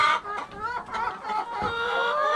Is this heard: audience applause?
no